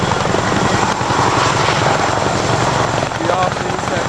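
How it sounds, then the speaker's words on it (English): A military helicopter of the 101st Airborne Division sits waiting to lift off with a sling load, its loud rotor and engine drone steady and close for the whole stretch. "Sometimes the pilot's waiting to see how the load's going to settle down on the helicopter before they take off."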